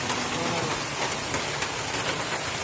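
Steady rain pours down outdoors during an outing at Aradonga in Meghalaya, a dense, continuous hiss of drops hitting surfaces with no voices.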